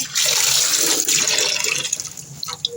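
Running water from a tap splashing steadily as raw chicken and fish are washed, loud and close, easing slightly toward the end with a few small splashes.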